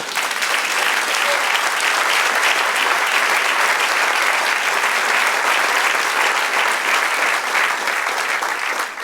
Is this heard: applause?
yes